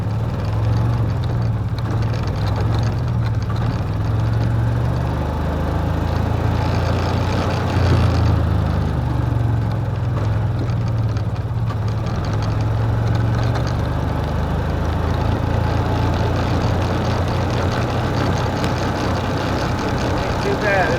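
A 1991 four-stroke engine runs at a steady, low, even idle throughout, a continuous rumbling hum close by, with voices occasionally heard over it.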